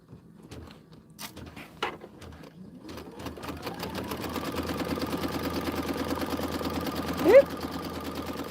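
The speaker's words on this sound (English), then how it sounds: "And let's sew up the other side." A sewing machine stitches quilt borders, starting with a few clicks and short stops, then running in a steady, fast close-up whir with a brief bump near the end, while a voice talks now and then.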